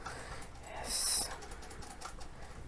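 Keys on a computer keyboard clatter in soft, scattered taps over a steady background hiss, with a brief brighter tone rising in the middle.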